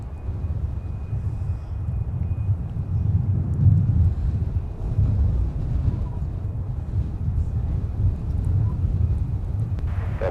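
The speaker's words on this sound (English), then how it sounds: "Well, it's a little breezy." Steady breeze buffets an outdoor microphone at Minneapolis–Saint Paul airport, a continuous low rumbling roar that swells and eases without pause; no other distinct sounds stand out.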